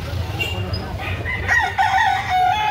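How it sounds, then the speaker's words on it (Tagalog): A gamecock crows once, a clear rising then sustained call close by at a cockfighting rooster market in Carbon, Cebu City, over a low background murmur of the market. "Magandang manok."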